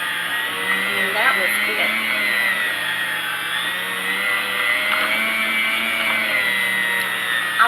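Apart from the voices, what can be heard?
slicing ham with a bladed meat slicing machine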